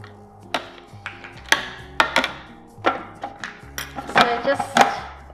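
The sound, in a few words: chopping uncrystallized ginger with a knife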